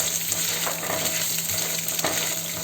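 Urad dal roasting in a pan over a low flame, a steady soft frying crackle with light stirring scrapes throughout, no voices.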